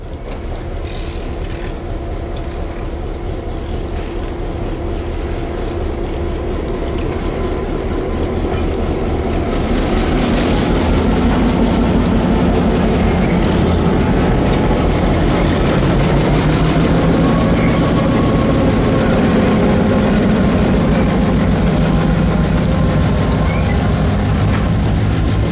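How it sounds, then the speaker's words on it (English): An eight-car CSX short line freight train rolls over a canal bridge in Florida's Bone Valley, producing a loud, continuous rumble of diesel engines and wheels that builds and holds steady throughout. "the 8-car train was soon nosing over the water"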